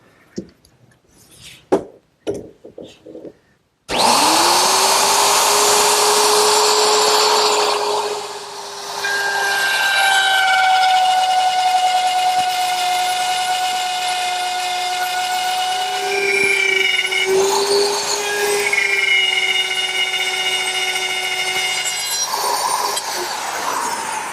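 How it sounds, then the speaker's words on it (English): A handheld router fitted with a dovetailing bit and guide collar cuts tails into wooden side pieces for a Shaker washstand, starting with a few light taps before a loud, sustained high-pitched whine that dips and recovers as the bit works through the wood. "I've taken my router and I've installed a dovetailing bit and this little collar here which will follow the guide fingers"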